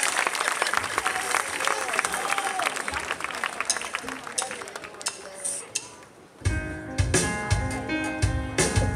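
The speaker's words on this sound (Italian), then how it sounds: "un applauso al Moviere" Festival audience applauding at an outdoor event in Firenzuola, a steady dense wash of clapping filling the first six seconds before a loud burst of music and singing takes over.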